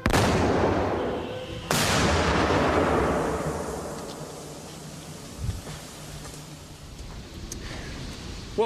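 A single loud blast from a test firing at an armored car cracks out close by, then rumbles and rings away into a long fading tail, with a faint second thump later.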